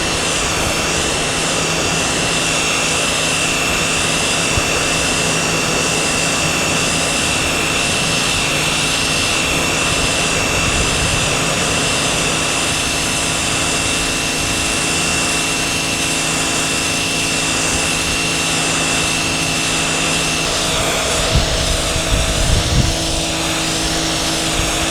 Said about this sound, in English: I'm gonna flip on the power washer.